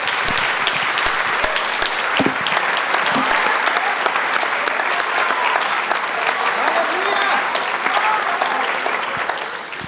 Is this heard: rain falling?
no